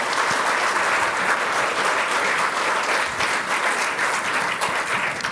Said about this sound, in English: Give them both a round of applause, then.